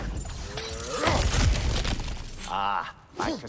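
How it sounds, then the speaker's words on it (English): Objects smashing and shattering in God of War Ragnarok, with crunching breakage bursts around the middle and end over game music and a character's voice. "Ah, back to smashing through things for fun and profit."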